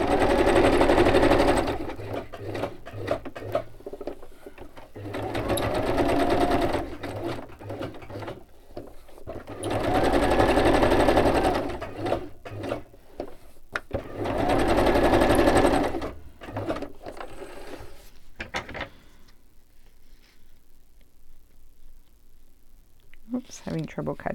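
A sewing machine stitches glassine bags in repeated bursts of fast mechanical whirring, several runs separated by pauses, close and fairly loud, ending in quiet.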